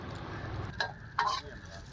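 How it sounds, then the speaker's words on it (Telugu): Eggs fry on a street food stall griddle near Marina Beach, a low steady sizzle with a couple of brief scraping stirs over it. "ఎగ్లు అయితే బాగా ఫ్రై చేసుకుంటున్నాడు"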